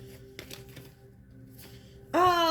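Tarot cards shuffled during a reading, heard as soft, quick riffling bursts close by, followed by a sudden loud, sustained tonal sound near the end.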